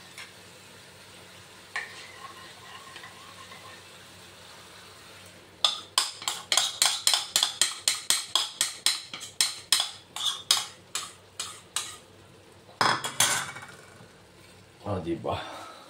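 Tomatoes and eggs cook in a pan while a metal spatula or spoon scrapes and clinks against it in a quick run of about twenty sharp strokes, with a few softer knocks, against a faint hiss.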